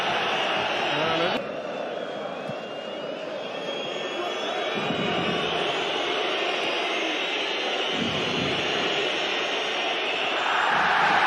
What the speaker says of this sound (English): The biggest cheer so far.